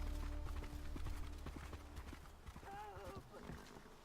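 A horse in a video game trailer, with steady clip-clop hoofbeats and a brief whinny, playing faintly under people talking over it.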